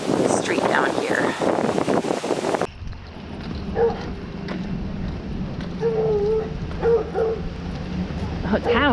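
A big hound dog barks and bays on a small town street in Grand Forks, in a run of repeated, moderately distant calls, after a stretch of people talking.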